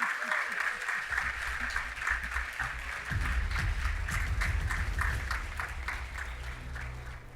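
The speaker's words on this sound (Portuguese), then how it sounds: "Audiência, por favor, palmas mais fortes." An event audience at a petroleum competition final applauds in a steady, fairly distant roll of clapping, with low rumbling music or crowd noise beneath and some faint voices.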